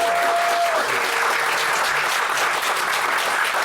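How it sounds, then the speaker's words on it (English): Steady, dense applause from a large live audience at Gen Con, continuous and loud throughout with no voices standing out. "please give a round of applause"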